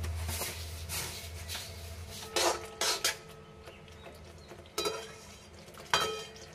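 Metal clanks and clinks of a lid being handled on a pan of rohu fish kalia curry, a few sharp knocks in the second half over low kitchen hum, no speech.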